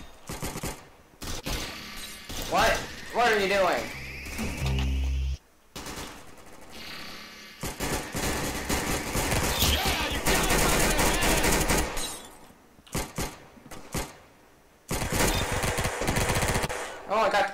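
Rapid bursts of .45 ACP gunfire in the video game Arsenal, dense and loud across most of the stretch with brief pauses, over game effects and voices talking.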